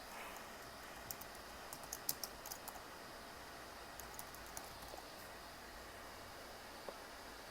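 Soft clicks of a computer keyboard as a project name is typed, scattered keystrokes in short bursts over a quiet steady hiss, no voices.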